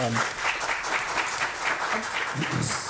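Audience applause fills a city council meeting chamber in Wayzata, a steady, moderately loud wash of clapping that persists throughout with faint voices mixed underneath.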